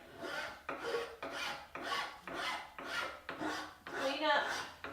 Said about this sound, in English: it's always nice to have a good wood file in hand